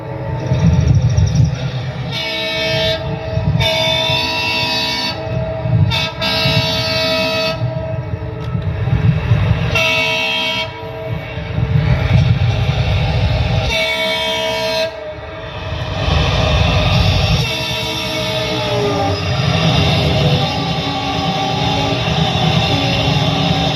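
A train rolls loudly past, with a steady rumble and clatter throughout and several long, blaring horn blasts repeating every few seconds, no voices over it.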